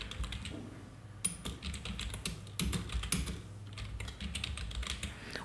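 Fingers type on a computer keyboard in quick irregular bursts of close, crisp key clicks, with no voice.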